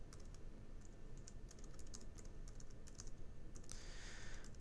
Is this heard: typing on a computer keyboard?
yes